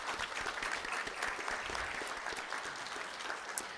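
Applause from an audience at a school district board of trustees meeting, a dense, steady wash of clapping from many hands holding at an even level throughout.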